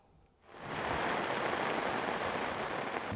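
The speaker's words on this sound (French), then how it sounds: "Il pleut des cordes sur la cité des 18 montagnes." Heavy night rain pours down in Man, Côte d'Ivoire, during the rainy season, a dense, loud, steady hiss that swells in over the first half second and then roars on without a break.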